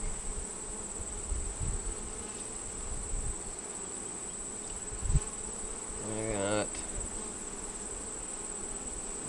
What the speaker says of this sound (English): the bees just going ballistic.